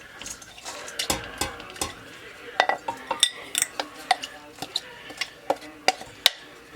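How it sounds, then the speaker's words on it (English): Broccoli tipped into a soup pot for cheesy broccoli soup, producing a run of sharp clinks, knocks and rustling clatters against the pot at close range, with no voice over it. "I'm going to add the broccoli in."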